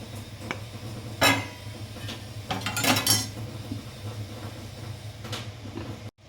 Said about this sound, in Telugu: ఇప్పుడు మూత అనేది వేసేస్తాను